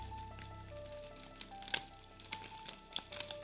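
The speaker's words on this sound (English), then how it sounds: "So can you hear the egg sizzling now?" An egg fries in a paper frying pan, giving a faint, steady crackling sizzle with scattered sharp pops growing more frequent toward the end, heard close and alone.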